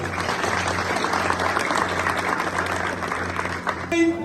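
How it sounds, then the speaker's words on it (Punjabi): A church congregation at a special meeting in Batala bursts into loud, sustained applause, a dense wash of many hands clapping together that continues to the end, when a brief tone cuts in. "ਸਾਰੇ ਰਲ ਕੇ ਇੱਕ ਵਾਰੀ ਇੱਕ ਤਾਲੀ ਮਾਰ ਦਿੱਤੀ"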